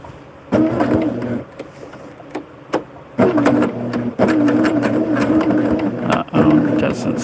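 Sewing machine stitching a quilt seam with a faulty bobbin thread, whirring in bursts separated by short pauses, fairly close and loud.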